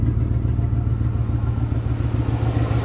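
A 1980 Buick Regal engine idles close by with a steady, even rumble and light clatter, running smoothly throughout with no talk over it.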